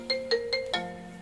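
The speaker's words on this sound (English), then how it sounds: "mum's ringing me." Mobile phone ringtone for an incoming call, a quiet electronic melody of four quick rising tones repeating, then a sustained note fading, heard alone with no talk.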